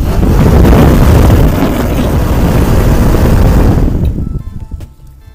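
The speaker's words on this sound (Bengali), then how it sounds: "মাইক্রোফোনটার মধ্যে মানে এত জোরে হাওয়াটা বাড়ি খাচ্ছে যে মাইক্রোফোনটা কাঁপছে" A homemade cooler fan blasts air straight onto a microphone, a loud, rumbling buffet of wind that roars steadily and then drops away abruptly near the end.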